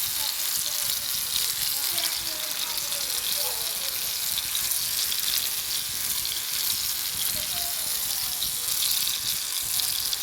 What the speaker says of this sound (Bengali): তো মাছ ভাজির একটা আওয়াজ পাচ্ছেন